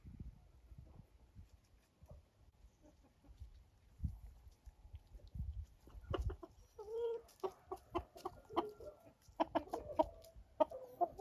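Hen in a farm chicken coop clucking after laying an egg, a run of short close clucks and cackles growing busier and louder toward the end over low rustling and handling noise.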